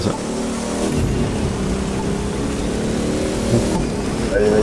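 A Plymouth's engine in the video game The Crew 2 roars steadily at high revs, pitch climbing and settling, with a brief shift near the end; loud and continuous, no talking.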